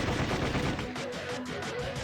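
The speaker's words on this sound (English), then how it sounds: "the air erupted in gunfire" Gunfire in the visual novel Sweet Fuse: At Your Side, a continuous rattle of rapid shots, loud and close, with repeated sharp bursts and no talk.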